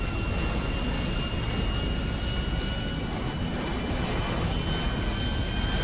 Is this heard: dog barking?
no